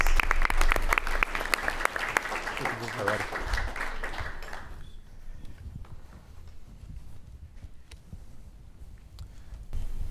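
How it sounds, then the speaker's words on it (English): Applause from an audience at a high school pitch contest for a student startup team, loud and full for several seconds, then thinning to scattered claps and footsteps. "Let's give them a round of applause."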